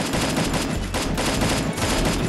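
Rapid bursts of gunfire in the video game Free Fire crackle continuously, dense and loud, like automatic weapons firing in quick succession with no pauses.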